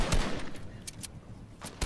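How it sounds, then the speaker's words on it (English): Sniper gunfire in the video game Fortnite: a few sharp, sudden shots spaced apart over a steady game background, with no talking. "We're getting sniped at"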